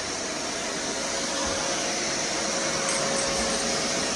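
A household vacuum cleaner runs steadily indoors while carpets are being laid, giving a continuous broadband whoosh with a faint constant whine, close and unbroken with no voices.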